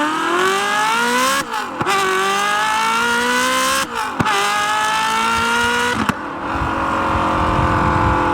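A manual Ferrari F430 accelerates hard through the gears, its engine rising in loud, near revving sweeps cut by three quick shift breaks before settling into a rougher drone.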